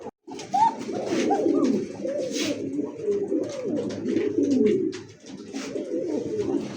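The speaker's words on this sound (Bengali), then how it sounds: "এখানে দেখতে পাচ্ছেন খুবই সুন্দর এক জোড়া কোকা কবুতর" A pair of pigeons coo steadily at close range, their low rolling calls overlapping almost continuously with only brief pauses.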